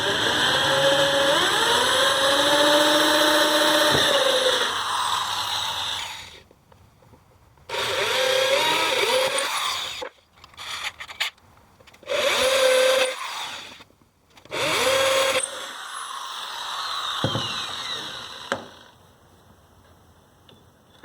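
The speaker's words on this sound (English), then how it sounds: "drill through the front because there's going to be a lot of tear out with the hole saw" A hole saw bores through wood on a workbench in a mini Marshall amp cabinet build, a loud sustained whining grind that stops and restarts in several shorter bursts, with steady motor drone and pauses between cuts.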